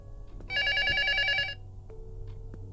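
A phone ringtone in the horror video game Luto, one warbling electronic trill burst lasting about a second, clear and fairly loud over a quiet, hushed room background.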